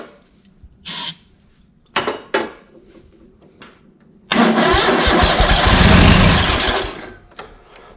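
A Cub Cadet ZT200 zero-turn lawn mower engine cranks after a few short clunks and clicks, then catches and runs loudly for about three seconds before cutting off, close by with no talking.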